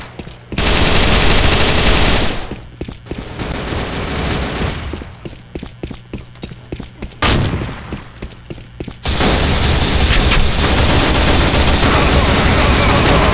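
Gunfire in the video game Repulse: loud, sustained automatic bursts crackle almost without pause, briefly easing to thinner stuttering shots before another long, dense volley.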